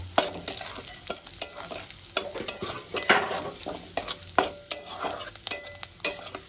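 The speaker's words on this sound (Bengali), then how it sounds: "এই তেলের মধ্যে আমি ফোড়নটা দিয়ে দেবো দেবো তেজপাতা শুকনো লঙ্কা গোটা জিরে দারচিনি এলাচ ফোড়নটা আমি একটু ভেজে নেব" Whole spices, bay leaf, dried chili, cumin, cinnamon and cardamom, frying in a little oil in a pan for Kashmiri aloo dum, with steady sizzle and repeated sharp scrapes and clinks of a spatula stirring.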